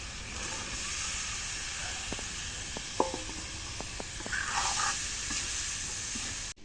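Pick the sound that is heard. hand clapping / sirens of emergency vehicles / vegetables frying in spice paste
vegetables frying in spice paste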